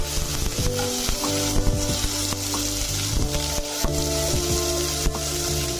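Mixed vegetables including radish pods and carrots sautéing in oil for a Bhogi festival masala dish, a loud continuous sizzle with frequent stirring scrapes and light background music tones, no talking.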